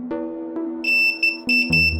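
A continuity tester probing a vintage chorus pedal circuit gives short, bright electronic beeps, close and fairly loud, starting and stopping as the probes touch.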